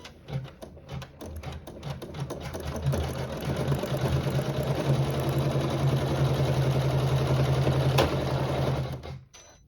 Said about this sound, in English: use a matching thread for fabric 4 in the needle and sew the satin stitch